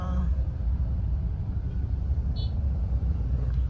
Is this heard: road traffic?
yes